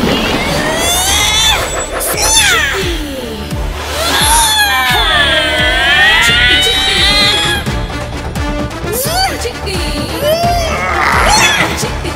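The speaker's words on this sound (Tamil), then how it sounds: "எங்கிருந்து வந்து சின்ன பூனை குட்டி?" A cartoon kitten meows in a Tamil children's animated show, several high, wavering cries repeated over busy music and sound effects.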